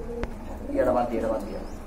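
Pigeons at a pigeon seller's loft give low, rolling coos in the middle of the moment, with background chatter and a sharp knock near the start.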